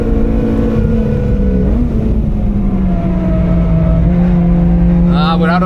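A Honda Civic EP3 Type R four-cylinder engine revs hard and steadily on the Nürburgring, a loud sustained drone that sags and climbs as revs fall off high rpm, with a voice cutting in near the end.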